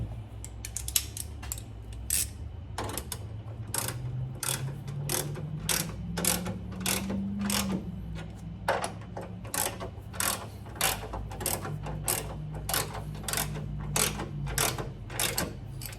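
A hand ratchet tightens a coilover spring in a steady series of sharp metallic clicks, close and fairly quiet, with a low mechanical hum beneath and no talk.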